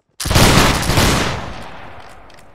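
A line of infantry fires a musket volley in the game Napoleonic Wars, one sudden loud crackling crash of many shots at once, which decays into a rolling echo over about two seconds.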